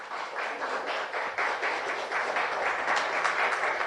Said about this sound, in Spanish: ¿No le quiere dar un aplauso al Señor por eso?